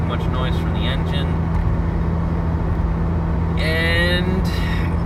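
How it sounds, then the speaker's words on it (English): A car engine drones steadily at low pitch while driving, with the heater on inside the cabin; a constant hum and road rumble run throughout, with a brief brighter swell near the end. "Hope there's not too much noise from the engine."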